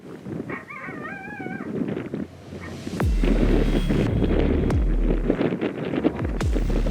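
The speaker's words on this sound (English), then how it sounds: "And wouldn't you know it, there's the coyotes." A brief wavering coyote howl and yips early on, fairly distant, followed by heavy wind buffeting the microphone with low rumbling gusts.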